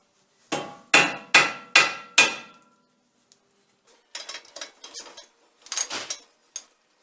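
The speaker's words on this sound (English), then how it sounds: "then just hit it with a hammer to pop it through" A hammer strikes the castle nut on the steering linkage of a Jeep Cherokee XJ during a front axle swap: five loud, evenly spaced metallic blows ring out, followed by lighter clinks and tool rattles.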